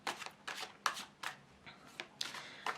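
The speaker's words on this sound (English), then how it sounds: "So I'm going to shuffle these cards to see what's going on." A deck of tarot cards is shuffled by hand in a series of crisp riffling bursts, about seven quick flurries at a steady pace, close and fairly quiet, with no voices.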